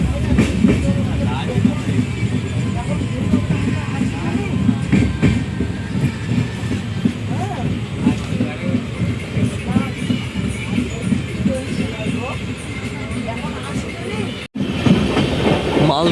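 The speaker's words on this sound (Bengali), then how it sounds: "আমাদের ট্রেন ঢুকছে এখন" An Indian Railways train rolls into Gour Malda station, its wheels keeping up a steady, rhythmic clickety-clack with the carriage rumbling close and loud, broken by one brief dropout near the end.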